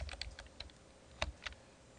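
Keystrokes on a computer keyboard as a command is typed on a CentOS desktop, a quick burst of clicks at the start, then a few louder separate taps, close and clear with no talk.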